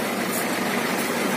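A 2005 Ford Ranger 4x4 pickup engine idling up close, a loud, steady rumbling drone with no variation over the short stretch.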